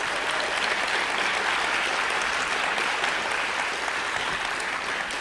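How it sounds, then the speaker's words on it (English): Steady, sustained applause from an audience at a school superintendent candidate forum in Las Cruces, continuous and fairly loud throughout with no pauses. "Let's give all of these gentlemen a big round of applause."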